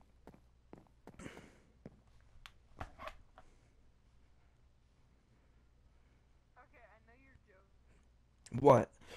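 Footsteps in Minecraft come as soft, scattered taps during a hide-and-seek game, with occasional voices and a loud burst near the end.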